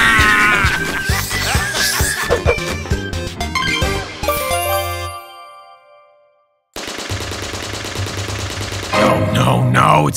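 Rapid bursts of cartoon gunfire in a Rainbow Friends animation, loud and dense, mixed with music and shouting, then a sudden drop to silence before the noisy scene resumes.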